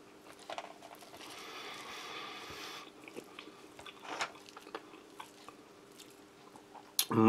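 Dry chunks of beef from a Russian field ration menu are chewed close up with soft, intermittent crunches and squishy bites, quiet and sporadic, with a voice heard briefly at the end.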